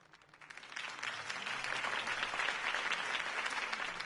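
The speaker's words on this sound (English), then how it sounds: "could have heard that applause" Loud applause from a large crowd in a Batman video game, swelling quickly after a quiet start and holding steady as a dense wash of clapping.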